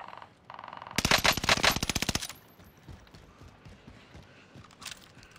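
Rapid automatic gunfire from a Call of Duty: Modern Warfare match, a loud close burst of about a dozen shots lasting roughly a second, followed by quieter game ambience.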